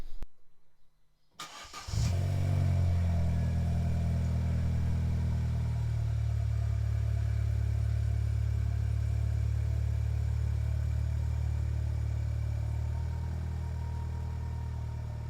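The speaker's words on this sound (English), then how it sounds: "So I'm going to shuffle the cars around, move that one over there" A car engine turns over and catches, then idles steadily and close at a low rumble with slight variations in revs, alone without talk, as cars are moved around.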